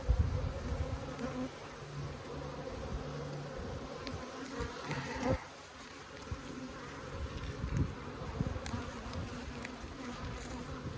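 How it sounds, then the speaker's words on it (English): A steady, close buzzing of honey bees during a beehive inspection at a bee yard in Holts Summit fills the clip, a dense droning hum with a few louder passes near the microphone. "Still got some bees in my jacket."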